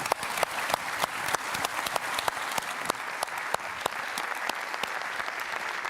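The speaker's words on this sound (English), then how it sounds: "A round of applause for our speakers." Steady audience applause at a renewable energy summit in Portugal, dense clapping from a large crowd sustained evenly throughout without speech.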